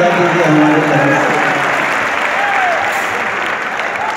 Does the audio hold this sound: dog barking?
no